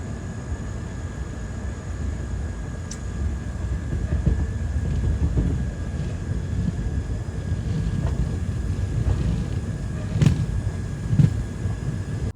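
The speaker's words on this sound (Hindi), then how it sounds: "6:17 पे हमारी खानदेश एक्सप्रेस जो है वो निकल रही है नवापुर से।" Khandesh Express pulls out of Navapur station with a steady low rumble of wheels and carriages, a faint high tone above, and a couple of sharp clanks late on, heard alone without speech.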